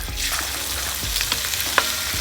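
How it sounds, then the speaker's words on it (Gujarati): Ginger garlic paste sizzles and fries in hot oil during preparation of a peanut snack, a steady close crackle with a few sharper spatters and light stirring, no talking. "હવે આની અંદર નાખશું આપણે આદુ અને લસણનો પેસ્ટ"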